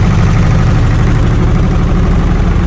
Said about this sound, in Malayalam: അവിടെ ജനറേറ്റർ ഉണ്ട്.